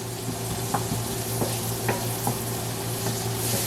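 Onion sizzles steadily in a pan, with a constant close frying hiss and a few light scraping stirs scattered through it, no talking.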